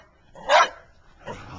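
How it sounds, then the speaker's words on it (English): A dog barks twice at close range, one loud sharp bark and then a softer, shorter one, with no talking. "Why are you barking at me?"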